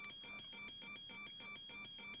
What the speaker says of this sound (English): there's a couple of alarms going off